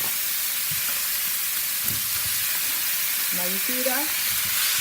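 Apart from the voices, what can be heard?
Jamaican curry chicken pieces sizzling in a pot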